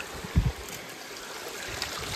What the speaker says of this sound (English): here we are coming up to the creek